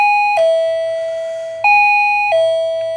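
Wireless doorbell with no wiring to its remote push switch, pressed three times: each press gives a loud two-tone ding-dong chime, a bright note followed by a lower sustained tone that slowly fades, close and alone.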